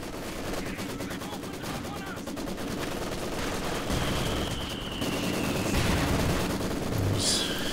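Continuous bursts of machine-gun fire and thudding mortar impacts across a large battle in Company of Heroes 2, a 4v4 match on the Redball map, rapid and layered, with a commentator talking over the combat.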